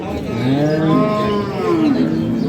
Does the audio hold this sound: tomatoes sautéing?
no